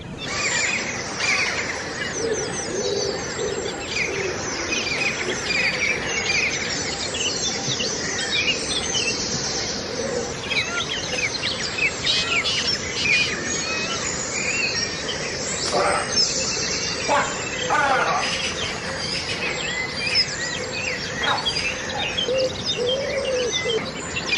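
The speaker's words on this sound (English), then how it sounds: "simultaneously with the live birdsong from Dublin and other Irish and international locations" Live dawn chorus birdsong in Dublin: several birds chirp and trill together over a soft, steady background hiss, with calls overlapping throughout and a few louder, nearer phrases standing out.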